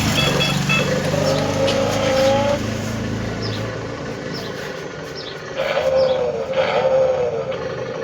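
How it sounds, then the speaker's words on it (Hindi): A children's remote control toy car whines with a high motor pitch that rises and falls in a couple of bursts, close and fairly loud against background noise. "बच्चों के खेलने की गाड़ी।"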